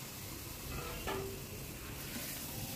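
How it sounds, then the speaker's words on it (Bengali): Chicken marinated with salt and turmeric goes into hot oil for a chicken curry, and a steady, close sizzle of frying fills the whole stretch with a brief clink of a utensil, with no voices. "এখন লবণ হলুদ দিয়ে মেখে রাখা মাংসটা এর মধ্যে দিয়ে দেব"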